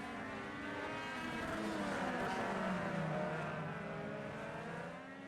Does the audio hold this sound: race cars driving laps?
yes